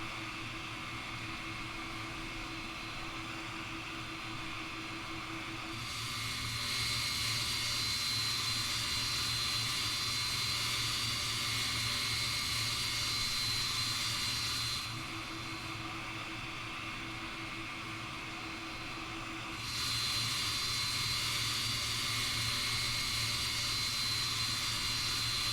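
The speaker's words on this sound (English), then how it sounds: "Still, the engine sounds are pretty amazing so far." Steady roar of MD-11 airliner jet engines in a flight simulator, a broad constant hiss with a high whine that swells louder twice, no voices.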